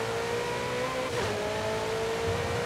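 Ferrari 488 Spider sports car engine in the Forza Horizon 5 racing game, a loud steady high-pitched drone that holds throughout, briefly dipping in pitch around the middle as if shifting, with no talk.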